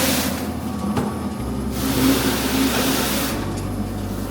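Combi Duster car mat cleaning machine with two rolling brushes inside runs steadily, a loud continuous mechanical whir and rumble with shifting low drone, cleaning both sides of a car mat at once.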